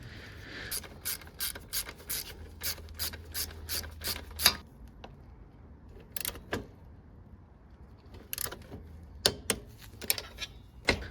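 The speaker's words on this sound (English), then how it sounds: "Slide on the brake pivot arm and tighten to 10 Newton meters." A wrench ratchets in short bursts as a brake pivot arm bolt is tightened on a Honda CB125F motorcycle's rear brake. The clicks come close and loud, with pauses between them and no talk.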